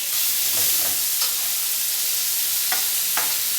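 A pan sizzles with a steady bright hiss as food fries in leftover sausage fat for a low-carb quiche, with a few faint stirring taps over the continuous frying.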